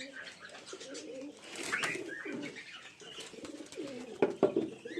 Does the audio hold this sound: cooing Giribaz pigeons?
yes